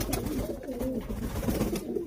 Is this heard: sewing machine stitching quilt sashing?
no